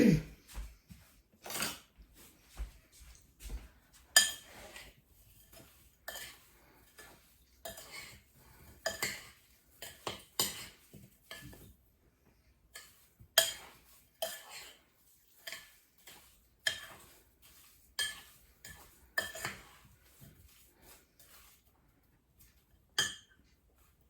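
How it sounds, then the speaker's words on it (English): Metal spoon stirring sugar and cinnamon in a bowl, giving a series of light, irregular clinks and taps against the sides, close and fairly quiet, with no talking. "I'm going to stir it up and let it sit."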